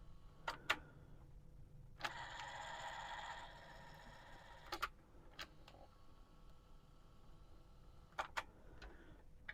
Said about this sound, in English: So you can hear the motor running. You can hear it turning.